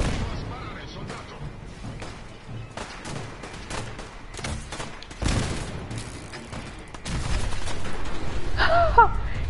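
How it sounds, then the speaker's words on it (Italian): Cannon and gunfire in the video game Fallout 4, a dense series of sharp blasts and rattling shots in irregular bursts, loud and close, with voices talking between the shots. "Continua a sparare, soldato."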